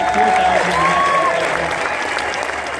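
A crowd applauds the volunteers at a golf tournament trophy ceremony, sustained outdoor clapping at an even level, with a few whistles or voices rising over the wash of hands.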